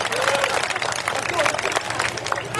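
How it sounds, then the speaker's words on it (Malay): An audience at a political rally applauds: a dense, continuous wash of clapping and crowd noise fills the whole stretch, loud and near, with voices mixed into the din. "Tepuk tangan."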